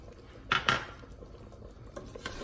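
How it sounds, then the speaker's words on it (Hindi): Chopped green coriander stirred into aloo gosht in a pot: two quick metallic scrapes of a spoon against the pot, then fainter clinks and soft stirring. "हम इसे मिक्स कर लेंगे।"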